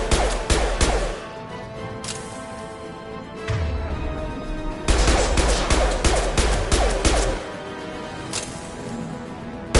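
Heavy impact shots in a Nancy Drew space-colony mystery game: sharp blasts in quick clusters with booming low thuds, loud and close, then fading between volleys.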